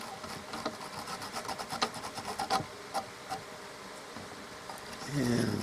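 Velcro brush raked over fly-tying fibers on a fly being tied, a series of quick, soft scratchy strokes close by, fading into quieter handling.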